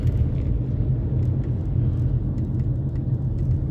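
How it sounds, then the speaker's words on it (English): A garbage truck just ahead rumbles with a steady, heavy low engine drone that holds at constant loudness throughout, with no voices. "I have a garbage truck in front of me."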